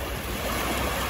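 Ocean surf at the seashore in the early morning makes a brief, steady, dense roaring wash, close and fairly loud, with no voices.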